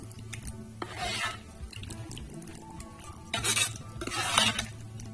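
A spoon stirs a thick green sorrel leaf curry in a pot, with soft scraping and wet sloshing bursts against a quiet kitchen background, loudest in two stretches.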